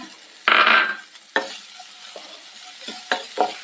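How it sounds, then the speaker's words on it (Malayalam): Onions, ginger and garlic frying in a pan with turmeric powder, a steady close sizzle broken by a loud burst and a series of utensil scrapes and stirs. "അതിലേക്ക് നമുക്ക് മഞ്ഞൾപ്പൊടി ഇട്ട് കൊടുക്കാം."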